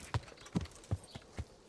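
Horse hooves clip-clopping in Kingdom Come: Deliverance, six evenly spaced hoof strikes at a walking pace, faint and fairly dry, with no voices.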